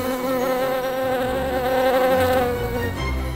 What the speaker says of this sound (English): That's the bees buzzing.